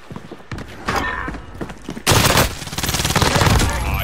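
Gunfire from a MAC-10 submachine gun build in Call of Duty: scattered shots open the moment, then a loud, sustained rapid-fire burst rattles on in a dense stream of close reports.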